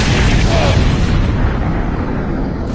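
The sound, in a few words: mortar fire explosions in Star Trek Online video game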